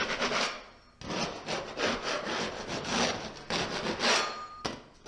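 Five-minute drywall mud being mixed by hand in a container, with loud, close, rhythmic scraping and rubbing strokes that run almost continuously with brief pauses.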